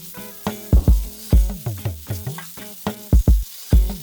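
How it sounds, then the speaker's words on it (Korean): Sliced onions hit a hot, oiled pan and sizzle loudly up close, with a series of sharp bursts and clatters from stirring over about four seconds. "다시 팬에 기름을 두르고 썰어둔 양파를 넣습니다"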